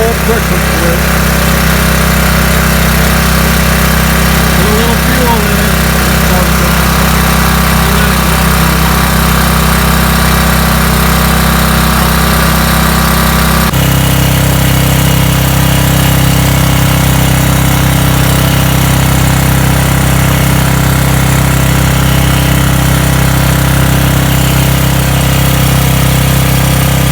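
Repaired Craftsman generator with its oil pressure switch disconnected, the engine running loud and close in a continuous drone, with a brief shift in pitch midway as the load or throttle changes.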